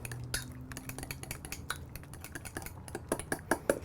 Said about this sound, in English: Whisk this with a fork